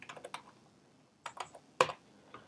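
Keyboard typing while writing Java code for a Minecraft Bukkit plugin, heard as quick bursts of light key clicks, then a pause and another cluster with one sharper keystroke, close and fairly quiet with no talking.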